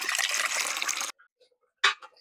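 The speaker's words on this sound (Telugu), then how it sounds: "స్టీల్ బౌల్లో వాటర్ పోసుకుందాం." Water pours into a steel bowl in a home kitchen, a bright gushing splash for about a second, then a short quiet gap and one more brief splash.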